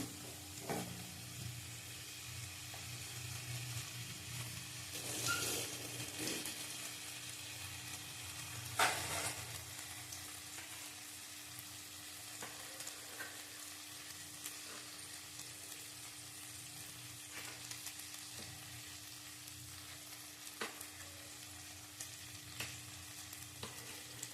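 Cauliflower and potatoes fry in a pan with a soft, continuous sizzle, broken now and then by the clack of a spatula stirring, quiet and close throughout.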